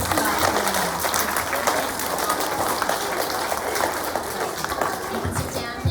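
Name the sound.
applause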